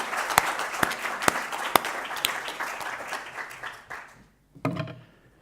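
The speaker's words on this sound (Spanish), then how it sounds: "le vamos a dedicar un aplauso a la comisión directiva" Audience applause for an outgoing board at a phlebology meeting, steady mixed clapping from a modest crowd with a few loud nearby claps standing out, tapering off, breaking briefly, then flaring up once more.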